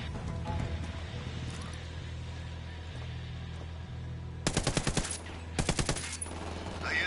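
Video game gunfire crackles in two sharp automatic bursts, one after the other near the end, over a steady low hum and background game audio, with voices talking in the game.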